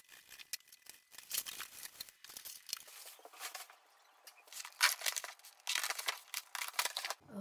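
Packaging being pulled off newly delivered chairs: crinkling plastic and tearing sounds in irregular close bursts, with brief quiet gaps and no speech.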